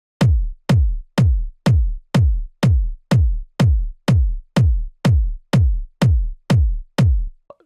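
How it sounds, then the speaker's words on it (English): A distorted, punchy tech house kick drum sample played alone, fourteen evenly spaced hits of deep booming low end with a crunchy attack, each decaying quickly into silence. "distorted, punchy tech house kick."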